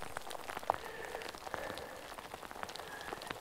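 Heavy rain pours down outdoors on a bikepacking trip between Mäntyharju and Repovesi, Finland, a dense steady patter of drops hitting surfaces, fairly soft and unbroken.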